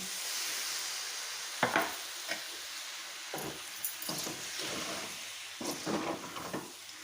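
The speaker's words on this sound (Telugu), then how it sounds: "ఇలా మసాలానంతా మొత్తం కలిసేట్టుగా కలుపుకోవాలండి మొత్తానికి అయితే బోటి మసాలా అంతా పట్టేట్టుగా ఇలా బాగా వేయించుకోవాలండి" Masala with goat tripe frying in a pan for Rayalaseema boti curry, a hissing sizzle broken by several scraping stirs and clacks of a spoon, close and fairly quiet, no voices.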